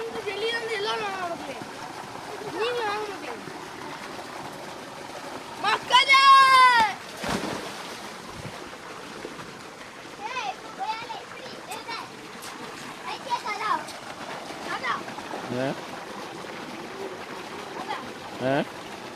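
Water gushes and splashes in bursts, loudest near the middle, while adults and someone talk over it throughout.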